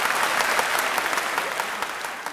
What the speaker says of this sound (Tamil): அவர்களுக்கு உங்களுடைய கரகோஷத்தை தெரிவித்து